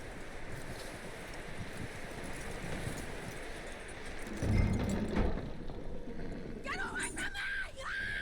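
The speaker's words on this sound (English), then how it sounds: "That looks like a decent horse" Horse hooves clip-clop in Red Dead Redemption 2 amid steady outdoor ambience and wind, with a heavier thud partway through and brief tonal game sounds toward the end.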